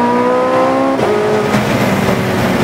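Porsche 918 Spyder Weissach hybrid supercar accelerating hard around Anglesey Circuit, a loud, close engine note climbing in pitch, breaking at a gear change, then rising again.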